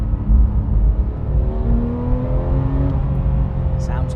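Porsche 991.2 911 GT3 with PDK gearbox, its high-revving engine climbing steadily in pitch over a few seconds, heard loud and close from inside the car at road speed.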